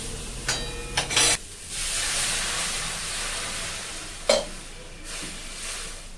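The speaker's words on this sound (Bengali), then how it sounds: "আমটাকে একটুখানি নাড়াচাড়া করে জল দিয়ে দেবো" A few clanks of a spoon stirring mango in a pan, then a loud sustained sizzle and hiss as water hits the hot pan, with another scrape partway through.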